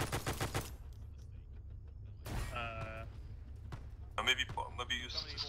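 World War II gunfire rattles in Arma 3, a quick burst of shots at the start and more clattering near the end, with voices talking in between.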